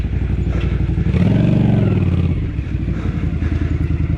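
A Honda CX500 motorcycle rides a harescramble dirt course, its engine close and loud, surging into a rising rev mid-way then settling back to a lumpy, throbbing run with clattering over rough ground.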